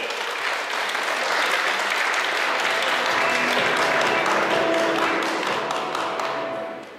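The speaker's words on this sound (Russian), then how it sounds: "Ваши бурные аплодисменты!" Sustained, dense applause from an enthusiastic audience at a qigong and tai chi event in a university hall, holding steady and loud for several seconds before tapering off at the end.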